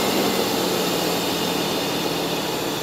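A cold Mercedes 380SL with K-Jetronic fuel injection runs at a smooth, steady idle. The sound is loud and close, a continuous broadband engine drone with no talk.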